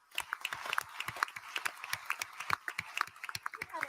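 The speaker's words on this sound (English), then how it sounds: "I think give them a round of applause too" Scattered applause from a crowd at Edmonton's Citadel Theatre after a political leadership debate. The claps are faint and distant, irregular and overlapping, and they go on steadily for a few seconds.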